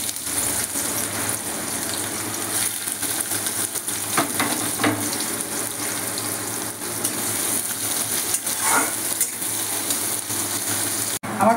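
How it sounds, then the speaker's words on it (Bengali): Onion fries in a kadai, giving a steady loud sizzling hiss throughout with a few brief clatters of stirring, close by and with no talking. "আমি কড়াই বসিয়ে দিয়েছি, এবার আমি পেঁয়াজটা ফোড়ন দিয়ে দেবো।"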